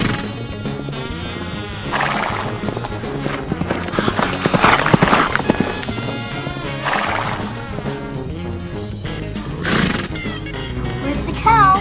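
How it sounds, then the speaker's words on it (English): A horse whinnies several times in drawn-out, wavering calls while hooves clip-clop steadily underneath, with voices talking over parts of it. "There's the horse."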